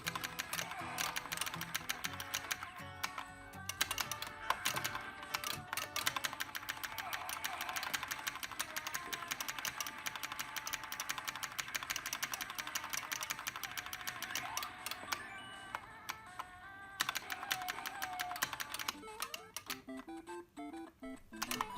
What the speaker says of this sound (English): The clicking of the joystick and mechanical buttons is very loud and can be annoying to others in silent